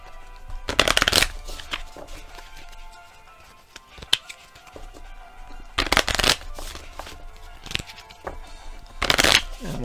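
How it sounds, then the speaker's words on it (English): Cards for a James Bond deck-building board game are shuffled by hand in three crisp riffling bursts, separated by softer clicks and card handling. "Shuffle my discard."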